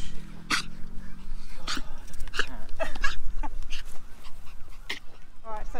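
An excited dog yelps and whimpers in rapid, high-pitched bursts, close and continuous, with some voices mixed in.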